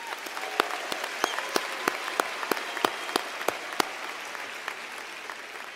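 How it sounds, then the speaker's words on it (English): Park Crossing High School's 2018 graduation ceremony crowd gives a round of applause for faculty and staff: steady, moderately distant clapping with sharp individual claps standing out, no talk over it. "please join me as we give a desired round of applause to our great faculty and staff at Park Crossing High School"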